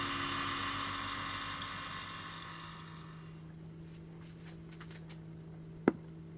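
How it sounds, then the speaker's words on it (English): A vacuum pump pulls trapped air out of a resin container inside a vacuum chamber. A steady, loud motor drone with an airy hiss settles into a lower hum after a few seconds, then one sharp click sounds near the end. "I'm going to put this container inside my vacuum chamber."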